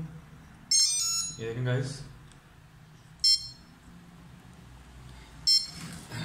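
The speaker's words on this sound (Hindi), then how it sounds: "ये आपको बीप की आवाज़ आ रही होगी, इसका मतलब है कि हमारी मोटर जो है जी वो चलने के लिए तैयार है।" Electronic beeps from a brushless motor's speed controller signalling readiness after being wired to a bench power supply, three short bright chirps spaced a couple of seconds apart, with someone speaking briefly between them.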